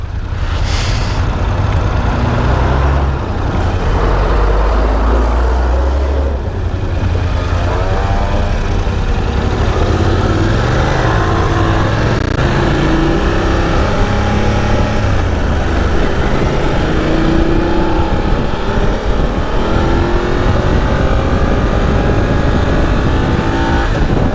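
A BMW F850 GS motorcycle is ridden through cold, gloomy Warsaw, a loud, continuous engine drone that rises and falls in pitch as it accelerates, wrapped in heavy wind rush.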